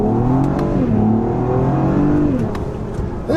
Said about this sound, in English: those big old exhaust pipes in the back, right? So they make a really pleasant sound